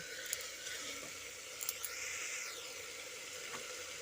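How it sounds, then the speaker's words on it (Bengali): Chopped tomatoes sizzling in spiced oil in a pan for a vegetarian cabbage dish, a soft, steady hiss with faint crackles throughout. "এবার কেটে রাখা টমেটোটা দিয়ে দিচ্ছি টমেটোটা দিয়ে আরও খানিক্ষণ কষিয়ে নেব"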